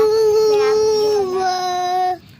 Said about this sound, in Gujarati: લો આ નાની ગલુડી આવ્યા છે કૂતરા